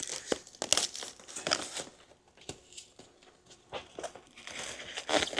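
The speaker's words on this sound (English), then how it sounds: "let's go ahead and take off the tape so we can start setting this up" Packing tape pulled and peeled off a newly unboxed Rattan LM Ultra foldable e-bike, heard as irregular crinkling, tearing and rustling bursts close by with short pauses between pulls.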